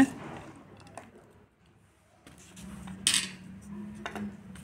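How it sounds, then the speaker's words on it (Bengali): A spoon mixes small fish, eggplant and carrot in a bowl, making scattered clinks and wet scraping sounds with a quiet pause in the middle. "সব একসঙ্গে মিক্স করে নেব।"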